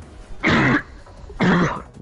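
Two short, harsh coughs, like throat clearing, sound close to the microphone about a second apart, with quiet room tone between them during a gaming stream.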